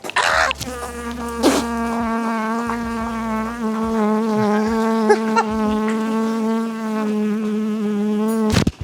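Honey bees swarming around an opened, disturbed backyard hive produce a steady, close insect drone that holds throughout, with a few brief knocks and handling sounds mixed in.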